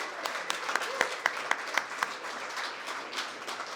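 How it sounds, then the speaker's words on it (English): A round of audience applause for the speakers at the close of an event, with sharp individual claps standing out near the front over a softer mass of clapping that tapers slightly toward the end. "I want to give one more big round of applause to all the speakers."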